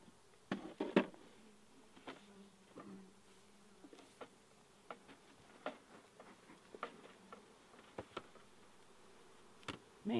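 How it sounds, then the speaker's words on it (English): Honey bees buzzing around an open hive in Alaska, heard as faint, scattered passes and brief close buzzes with soft clicks and knocks of hive boxes, no voices. "Man, look at the bees."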